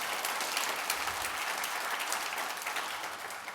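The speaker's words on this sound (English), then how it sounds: "Round of applause to the speakers." A conference audience gives the speakers a round of applause, a dense and even wash of many hands clapping that is heard alone at a moderate distance.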